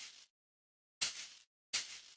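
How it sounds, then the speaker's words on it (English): Twist shaker hand percussion sample from EZDrummer: three crisp, bright shakes, each a short burst of rattling hiss, separated by clean silence. "The top one of the 3, presently a shaker, sounds like this."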